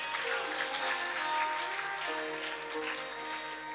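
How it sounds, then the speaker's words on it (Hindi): Audience clapping at a Hindu religious discourse on Shiva and the Trimbakeshwar Jyotirlinga, a steady wash of many hands continuing throughout at moderate, fairly distant level. "ताली तो बजनी चाहिए।"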